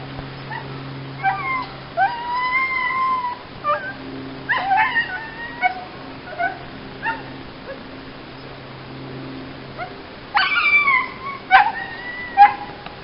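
A New Guinea singing dog gives a series of high, sliding howls and whines in short bursts separated by pauses, each call rising and falling in pitch, over a faint steady low hum.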